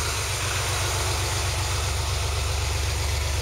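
A warm Porsche 911 engine idles at close range with a steady, even low-frequency rumble and a fast, regular pulsing beat, no voices present.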